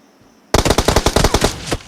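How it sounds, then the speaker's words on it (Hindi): Gunfire in PUBG, a single loud rapid burst of about a dozen automatic shots that starts suddenly after a quiet moment and lasts just over a second, close and clear with no talking. "ये देखो फायर कर रहा है।"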